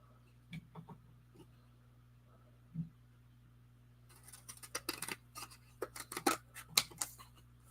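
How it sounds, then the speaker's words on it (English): Scissors snip through a glitter-and-glaze coated card in a quick run of crisp, close cuts, quiet at first and then a dense cluster of sharp snips, with no talking. "it's still cuttable with scissors"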